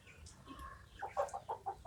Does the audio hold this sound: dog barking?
no